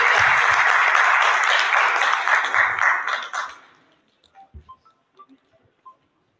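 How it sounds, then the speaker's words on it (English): A university audience applauds a startup founder, loud dense clapping for about three seconds that thins and dies away, followed by a few scattered faint claps in near silence. "big round of applause."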